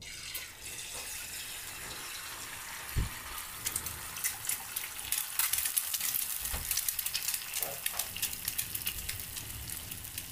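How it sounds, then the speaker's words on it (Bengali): An egg fries in mustard oil in a pan, a faint continuous sizzle broken by small pops and crackles, with a couple of low utensil knocks against the pan. "কারণ ডিমটা ভাজা করে নেবো আগে।"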